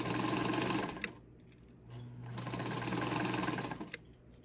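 A Montgomery Ward Signature UHT J260F sewing machine runs in two loud, close bursts of rapid rhythmic stitching, separated by a short lull where the motor hum drops away.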